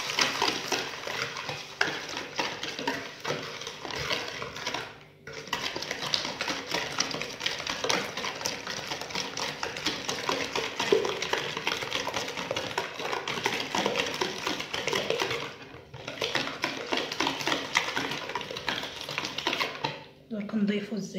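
Dough for lambout, a light crunchy sweet, mixed steadily in a bowl: a continuous scraping, stirring texture that runs almost unbroken, with a few brief pauses and a voice present underneath.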